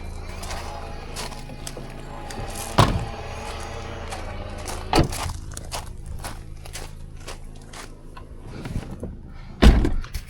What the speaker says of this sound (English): have to close the door.